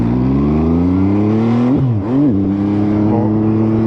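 An MV Agusta Dragster 800 RR motorcycle pulls away in first gear after the clutch is let out, its engine note climbing steadily, dipping briefly, then revving on strongly and close by.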